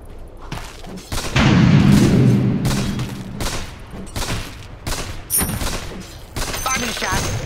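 Sniper shots and battle noise in the Dota 2 video game, with a burst of heavy booming impacts early on, then sharp repeated cracks and thumps mixed with game effects and a talking voice.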